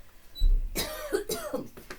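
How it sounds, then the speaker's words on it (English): A short, close cough with a throaty rasp, followed by a couple of smaller throat-clearing coughs. "this morning I woke up with a tiny cough"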